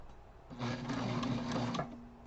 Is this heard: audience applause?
no